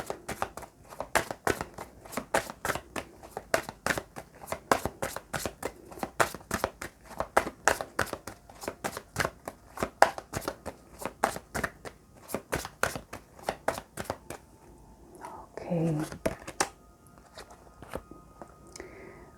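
Tarot cards shuffled and handled in a steady run of crisp, close riffling snaps and flicks, then a brief pause before a short muffled rustle near the end.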